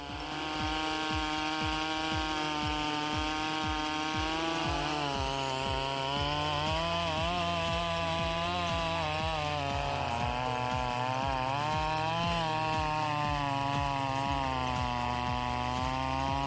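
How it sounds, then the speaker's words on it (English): A Stihl 46 chainsaw roars continuously at close range, its engine pitch rising and falling as the chain bites through large logs, loud throughout. "the Stihl 46 chainsaw easily handles large logs."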